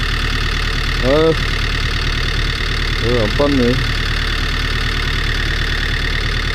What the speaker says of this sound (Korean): 트랙터